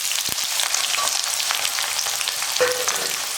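Garlic and small shallots fry in hot oil, a loud, continuous crackling sizzle with one sharp knock near the start and a brief pan scrape later, heard close with no talking.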